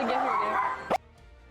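IShowSpeed, a streamer, imitates a dog with a loud, strained bark-like howl up close, cut off by a short sharp yelp before a quiet pause.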